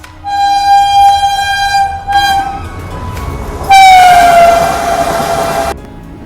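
The SMVT Bengaluru–Murdeshwar Express rolls past with a loud, close rumble while its horn blasts, first in a long sustained tone, then a short break, then another strong, drawn-out blast that fades away.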